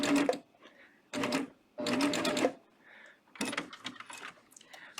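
Coverstitch sewing machine hemming knit fabric in bursts, four short runs of rapid stitching with quiet pauses between, close and clear.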